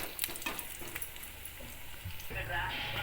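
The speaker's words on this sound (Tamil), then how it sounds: "நம்ம இப்போ பச்சி போட்டு வெந்துக்கிட்டு இருக்கு" Plantain bajji fritters frying in hot oil, a steady soft sizzle and bubbling that swells louder toward the end, with a voice talking over parts of it.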